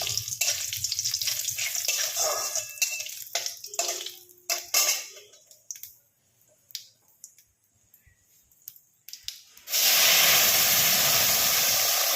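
Spices for a tempering sizzling in hot oil before dal goes in, with sharp crackles and pops that thin out into scattered snaps, then a sudden loud, steady hiss near the end.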